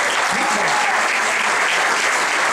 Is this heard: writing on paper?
no